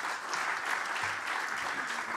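An audience at a panel debate on artificial intelligence applauds the speakers, with a short burst of thick, continuous clapping that stays steady and fairly soft from start to finish.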